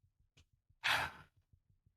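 A fast heartbeat sound effect thumps in a steady low rhythm through the whole stretch, with a loud breathy sigh or gasp rising over it partway through.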